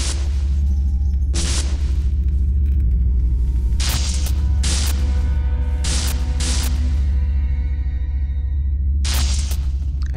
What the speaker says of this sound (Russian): Реально это шаровая молния.